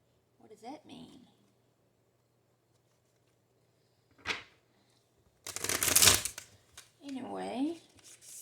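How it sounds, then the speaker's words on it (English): Tarot cards shuffled slowly for a reading, a couple of short riffling bursts, one louder and longer, set between stretches of someone talking. "these cards are shuffling slow"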